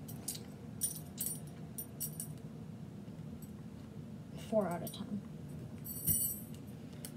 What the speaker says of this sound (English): It's kind of loud because the metal clinks together